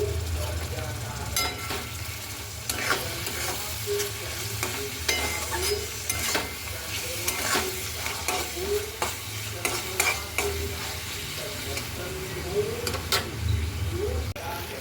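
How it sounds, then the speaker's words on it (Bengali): Spice masala with coriander powder for paneer bhurji being stirred in oil in a pan, a continuous close sizzle punctuated by regular spatula scrapes and knocks against the pan, with no voices. "এবারে এটা ভালো করে মিক্স করব"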